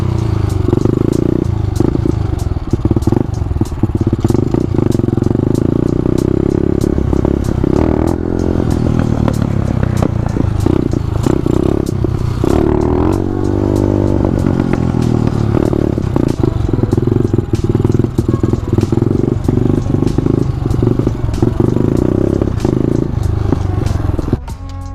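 Two-stroke motorcycle engine running loud and close for the whole stretch, with a steady buzzing drone, revs rising and falling around the middle and scattered clattering and scraping on top.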